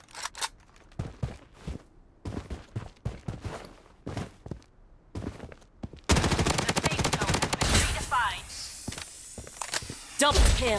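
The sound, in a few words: AK-47 gunfire from the video game Blood Strike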